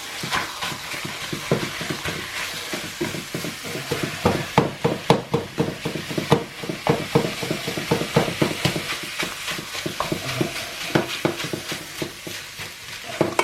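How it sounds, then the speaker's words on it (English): Beef mince browns in a hot pan for chilli, a close, continuous sizzle broken by repeated scraping and clacking of a utensil against the pan in an uneven rhythm. "we are going to brown this mince off"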